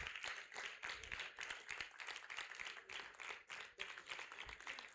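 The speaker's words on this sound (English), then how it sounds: "Please give him a thunderous round of applause." An audience in a hall claps to welcome Dr. Umar Lawal at a Nigerian Library Association event, a faint, steady patter of many hands from a distance.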